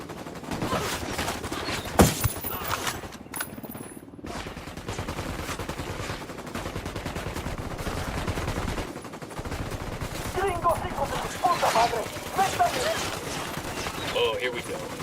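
Gunfire in Ghost Recon Wildlands: a sharp nearby shot early, then sustained bursts and rattling automatic fire, heaviest toward the end, with voices calling out over the combat.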